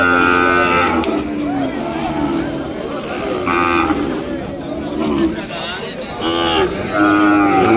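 Ongole bulls and calves lowing repeatedly at a cattle market, several loud moos close by over a busy crowd murmur with people talking.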